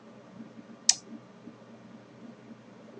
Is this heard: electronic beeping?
no